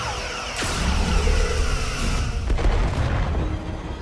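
Starship weapons fire in the Star Trek Resurgence video game, heard as a loud booming blast with a rushing whoosh, followed by a sustained rumble and a second hit.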